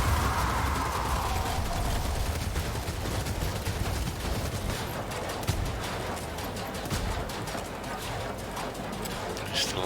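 A Skaven ratling gunner in Vermintide 2 letting loose a long, continuous stream of rapid rattling shots, steady and dense under a busy battle mix with voices calling out.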